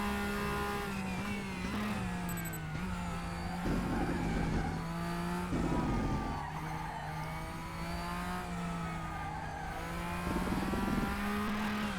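A Porsche race car in the RaceRoom racing game holds a steady, loud engine drone, with its pitch climbing and dropping through gear changes and brief tire squeal over the constant roar.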